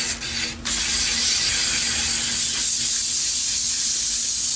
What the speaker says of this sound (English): now doing regular sanding on the lathe. The lathe spinning at about 250 RPM.